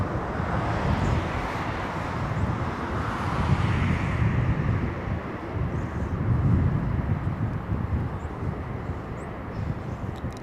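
A Virgin Atlantic Airbus A350-1000 arriving from London Heathrow at Los Angeles International Airport gives a loud, steady broadband jet roar that swells twice, with no voices over it.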